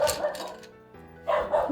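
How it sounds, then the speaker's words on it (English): A pet dog barks indoors in a few loud, sharp bursts, with a quieter pause between the first volley and the last. "I don't know what Cosmo's barking at"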